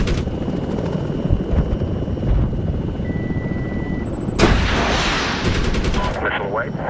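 An Apache helicopter in the Medal of Honor video game, its heavy rotor drone constant as a sharp missile launch bursts out with a rushing whoosh. Radio chatter comes and goes beneath the noise.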